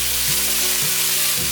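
Ingredients stir-fried in a hot pan, a loud, continuous close sizzle with a few faint scraping stirs of the spatula.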